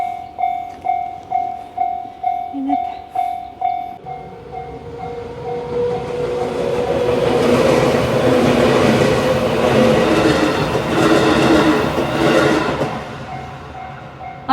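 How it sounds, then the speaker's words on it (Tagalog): A train passes close by near Fushimi Inari Shrine in Kyoto: rhythmic clacking of wheels over rail joints, then a loud rumbling roar that swells and slowly fades, with a tonal hum. "may dumaan na tren"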